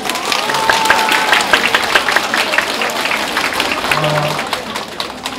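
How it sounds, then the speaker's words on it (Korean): Seated lecture audience breaks into spontaneous clapping, a steady mid-loud applause with scattered individual claps and some voices over it. "제가 말씀 안 드려도 자동으로 박수를 치시네요"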